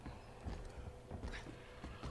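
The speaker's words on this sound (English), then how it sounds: "I think that stomping's Mr. X." Mr. X's heavy footsteps in Resident Evil 2 Remake, a few dull, booming thuds at a slow, uneven pace, moderately loud and nearby against low game ambience.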